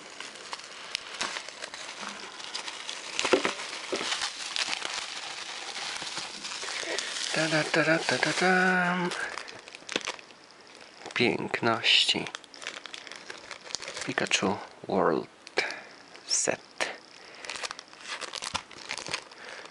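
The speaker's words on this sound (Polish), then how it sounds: "To jak to się rozpakowuje? Jeszcze tutaj pozaklejane." Taped plastic and card packaging of a Pokémon Card Game Pikachu World Set is peeled and torn open, giving close crinkling and tearing bursts mixed with rustling, while a person talks throughout.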